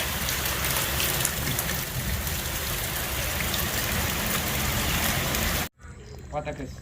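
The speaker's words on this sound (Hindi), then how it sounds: "इतनी मजे की बारिश।" Steady, loud rain pours down outdoors in a village during cooking, a dense even hiss with low rumble for most of the clip before cutting off abruptly near the end, followed by quieter background sounds.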